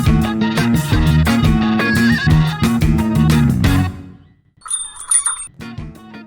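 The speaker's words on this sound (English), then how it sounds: "there's the chime that we know and love" A podcast's intro chime rings out, bright and high like a bicycle bell, for under a second after loud rhythmic music stops. The music then resumes.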